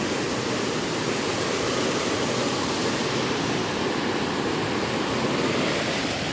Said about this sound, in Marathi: पाणी भरून वाहतो